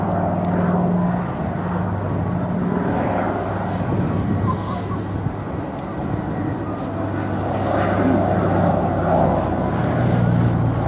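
Steady droning engine noise from a PBY-5A Catalina flying boat fills the whole stretch, a continuous low hum with a slight swell near the end.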